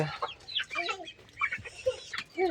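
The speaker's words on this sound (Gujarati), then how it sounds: "અમારે છોકરીઓ મરઘાને દાણા નાખે છે" Several small desi chickens cluck in short, busy bursts close by as they are fed grain, with small pecking and scratching sounds mixed in.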